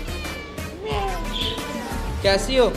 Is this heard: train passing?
no